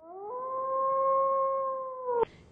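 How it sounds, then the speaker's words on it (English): A single dog howls in one long, steady, sustained note that holds nearly flat, then cuts off abruptly with a sharp click. "And a dog."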